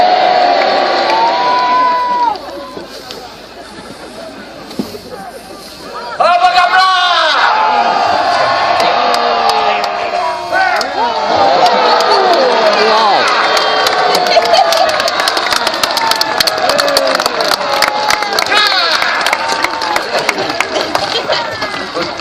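A large Scots crowd cheering in admiration of the king after Bannockburn's duel of Bruce and de Bohun, sustained loud roaring, whoops and shouts swelling after a brief dip and carrying on at full volume.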